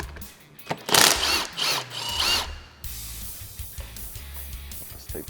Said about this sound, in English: we're going to have to remove this T40 Torx, securing the fender to the machine